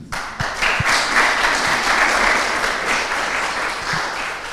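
A French audience at a regional contemporary art fund (FRAC Pays de la Loire) event gives loud, dense applause that fills the whole stretch, a continuous wash of many hands with a few low thumps.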